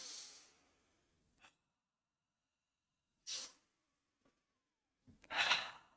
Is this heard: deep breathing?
yes